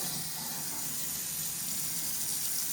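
Water streams from a Moen single-handle pull-down kitchen faucet sprayer into a sink, a soft, steady hiss-like spray held evenly for a few seconds with no voices.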